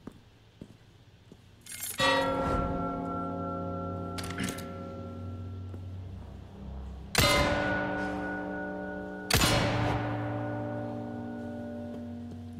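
A gong struck in the video game Resident Evil 4 Remake, three or four loud metallic hits with long ringing tones that decay between strikes, heard alone without talk.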